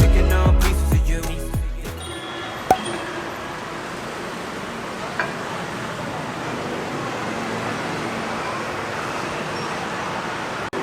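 Bangkok city street traffic: a steady, broad roar of passing vehicles with a couple of sharp clanks, heard after a brief burst of music at the start.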